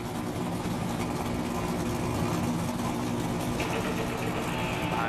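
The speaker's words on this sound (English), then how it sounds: "Gentlemen, start your engines!" A steady low rumble of several stock car engines idling together on the Daytona starting grid, loud and constant, with no talk over it.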